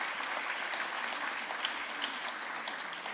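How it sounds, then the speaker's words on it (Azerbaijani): An audience claps for child performers at a school jubilee concert, a dense, even burst of applause heard from within the hall, steady for the whole few seconds with no voices. "Gəlin biz fidan balalarımızı alqışlayaq."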